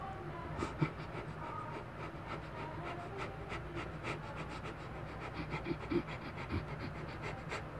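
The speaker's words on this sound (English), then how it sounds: "Fire breath." Fire breath exercise in a women's spiritual circle: quick, forceful, rhythmic pants repeat steadily and close for the whole stretch, with no talk over them.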